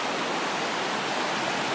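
A river flows close beside a campsite at Paris Springs campground, a steady broadband rush of moving water that holds even and uninterrupted throughout, with no voices.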